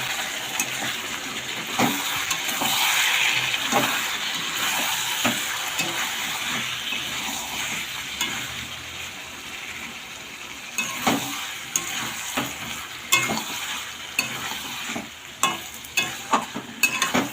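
Chicken is stir-fried in a pan on a home kitchen stove, with a constant sizzle under repeated scraping and stirring of a utensil. Sharper knocks and clatters grow more frequent toward the end.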